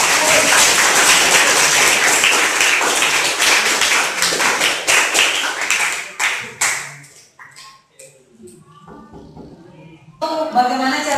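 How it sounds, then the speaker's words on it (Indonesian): Classroom applause for a classmate, many hands clapping loudly at first, then breaking into sparse, fading claps before a short burst of noise near the end. "Beri tepuk tangan untuk temannya."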